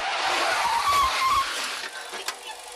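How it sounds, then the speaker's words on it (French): A Peugeot 406 skids sideways under the handbrake into a parking space between two cars, its tires squealing loudly for about two seconds before the sound fades. "au frein à main, il rentre latéralement comme ça entre deux voitures et sans rien toucher"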